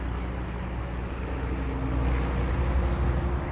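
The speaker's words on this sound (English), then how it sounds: "So good that the system got helicopters following Mr. Community around." A helicopter drones overhead as a steady, loud low rumble with a faint rotor hum, unbroken and growing slightly stronger toward the end, with no voices.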